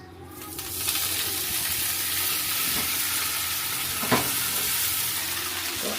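Rice goes into a pan of hot, darkened cumin tempering, setting off a loud, steady sizzle with occasional scraping stir sounds, close by and without voices.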